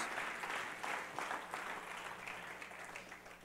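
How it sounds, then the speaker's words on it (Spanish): A church congregation applauds during a service, a faint, distant patter of many hands clapping that slowly tapers off. "Dele fuerte el aplauso a Dios."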